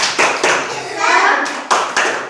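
Children clap a rhythmic classroom cheer in a few sharp bursts of hand claps, with young voices joining in around the beats, close and fairly loud.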